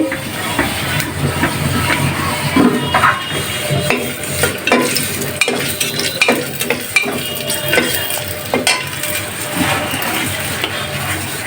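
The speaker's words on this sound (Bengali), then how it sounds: "যে তেজপাতা যে এলাচ আর দারচিনি ফোড়ন দিচ্ছি" Whole spices (bay leaf, cardamom and cinnamon) tempering in hot white oil with cumin, a steady close sizzle and crackle running throughout, broken by scraping stirs and small pops, no voices.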